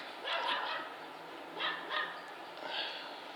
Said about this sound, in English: And there's Marley, the shop dog.